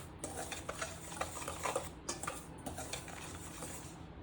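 Dry flour and other ingredients for sweet papdi dough are stirred together in a bowl, giving a soft, steady scraping and rustling with light clinks, quiet and close.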